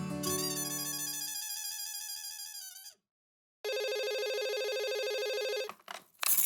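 A phone ringtone plays as a call is placed, a bright repeating electronic melody that cuts off, pauses briefly, then resumes as a second steady tone before stopping, loud and close with no talking.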